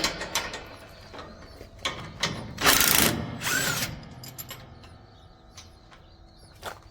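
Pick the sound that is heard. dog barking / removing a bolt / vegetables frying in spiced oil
removing a bolt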